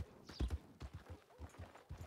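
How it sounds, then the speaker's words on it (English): Hooves of a purchased horse clip-clop at a walk in Red Dead Redemption 2 (RedM), a run of close, distinct thuds at an uneven rhythm. "There's our purchased horse"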